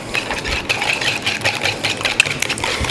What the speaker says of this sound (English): got my 6 eggs here, and I'll just whisk it up